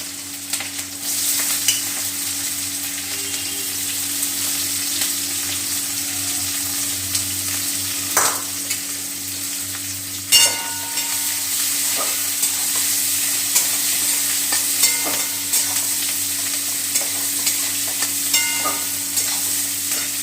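Onions fry in a pan for a jackfruit curry cooked mutton-style, a soft continuous sizzle with scattered stirring clicks and scrapes, close and steady over a low background hum.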